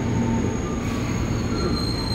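A KRL commuter train, a JR 205 series, runs through Duren Kalibata station with steady loud rumble and wheel squeal, a continuous close pass with no talking.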